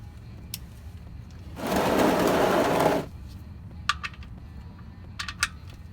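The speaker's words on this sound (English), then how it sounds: "you want to tighten it with your socket wrench" Socket wrench tightening the oil drain plug on a 2013 Honda Odyssey: one close, steady ratcheting burst lasting over a second, followed by a few faint, scattered clicks.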